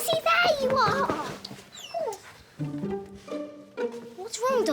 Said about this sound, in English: What's wrong, Doggy? Aren't you feeling very well, Mossy?